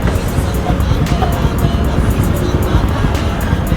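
Motorcycle fitted with a silenced exhaust, running loud and close as a steady, dense roar through the whole stretch, with no clear breaks between revs.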